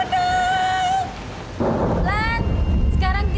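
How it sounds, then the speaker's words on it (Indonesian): Heavy rain pours steadily as a broadband hiss through the whole stretch, loud and close, while people speak over it at the start and again near the end. "Mana hujan deras lagi."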